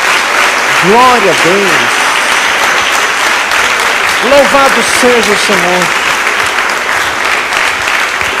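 A church congregation at a Portuguese-language service claps in sustained, dense applause throughout, while a voice calls out praise over it in short bursts.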